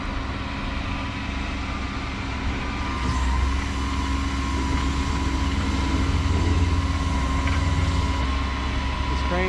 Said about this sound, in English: We're booming down and rotating at the same time.